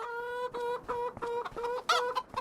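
Chickens in the farming video game Farming Simulator 25 give a run of repeated nasal clucks in quick, uneven succession, fairly close and with no talking.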